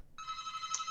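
A telephone rings with a single bright electronic trill, a buzzy warbling tone that starts abruptly and holds steady and fairly close over low background noise.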